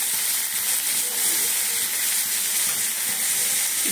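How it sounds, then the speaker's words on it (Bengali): Onions sizzle in a hot pan for a paratha filling, giving a steady, bright frying hiss that holds at an even level throughout. "এই দেখো ওখানে পেঁয়াজ চাপিয়েছি"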